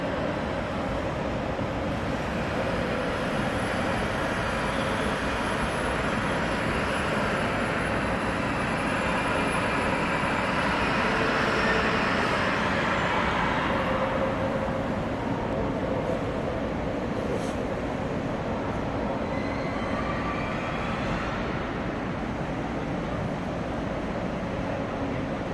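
An AVE high-speed train glides into Atocha Station in Madrid with a steady broad roar and hiss, a continuous wash of rushing noise that swells slightly before easing, with no talking.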